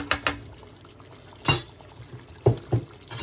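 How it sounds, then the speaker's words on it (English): Ackee tipped into a pot of Jamaican stew chicken, a few separate soft wet thuds and clatters at close range, with quiet pauses between them. "Now it's time to add the ackee."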